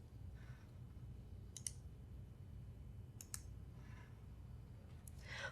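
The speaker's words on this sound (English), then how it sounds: "We can kick it off again by right-clicking and selecting the Resume option." A computer mouse is right-clicked a few times, producing short, quiet, sharp clicks spaced apart over a steady low background hum.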